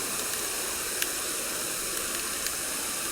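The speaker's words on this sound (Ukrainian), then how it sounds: "ви чуєте такий тріск, виходить повітря з мийки" A steady, even hiss of air escaping from an Oleo-Mac PW 110 C pressure washer as water is drained, with a few faint crackles and clicks scattered through it.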